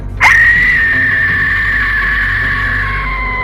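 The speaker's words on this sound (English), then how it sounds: "It emits a sinister, haunting, and frankly terrifying screeching sound" An Aztec death whistle gives a sudden, piercing scream that starts sharply and then holds a steady, shrill tone for several seconds, loud and close.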